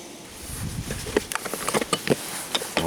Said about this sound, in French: il y a beaucoup de mouches qui rentrent dedans